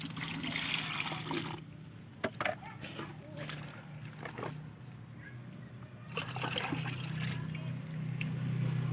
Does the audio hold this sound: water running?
yes